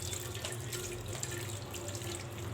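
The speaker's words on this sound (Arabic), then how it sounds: "بصفيه لان محتاجه الميه بتاعته" Hot lemon water pours through a strainer in a steady, soft trickle, a faint continuous splashing stream close by with no voices.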